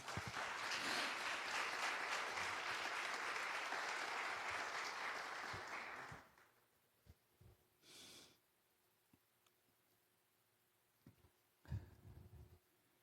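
A church congregation applauds loudly and steadily for about six seconds before the clapping stops, leaving a quiet room with a few brief breaths and sniffs.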